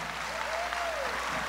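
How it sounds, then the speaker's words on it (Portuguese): A church congregation at an anniversary celebration claps in a soft, distant wash of applause, with a faint high whistle-like tone gliding through the middle. "Pode aplaudir mais forte,"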